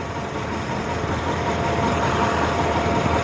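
Tractor engine running steadily in an alfalfa field during fertilizing, a loud continuous low rumbling drone heard close up from on board, with no speech.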